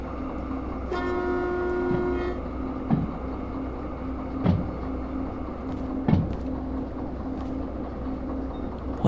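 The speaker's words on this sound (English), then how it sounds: "I'm going to back this train up all the way." A train in the Derail Valley simulator game sounds a steady horn blast, then rolls along with rhythmic clanks of wheels over rail joints at a slow pace, with no talking.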